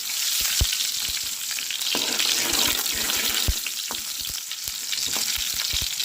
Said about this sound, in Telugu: ఆనియన్స్తో పాటు కరేపాకు కూడా వేసుకున్నాం కరేపాకు కూడా వేసుకొని బాగా ఫ్రై చేసుకున్నాం